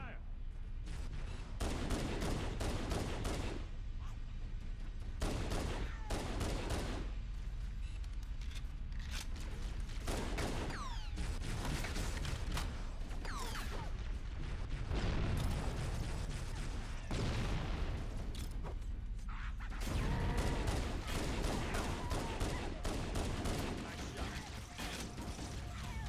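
Sustained gunfire from Halo: Combat Evolved fills the clip, dense rapid bursts and booming shots running nearly continuously for about 26 seconds, with brief pauses and in-game voices calling out over the battle.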